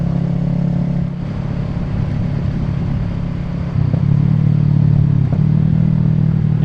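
A motorcycle engine runs at low revs while the rider works the clutch to control speed, a close, steady drone that steps up in pitch and loudness partway through.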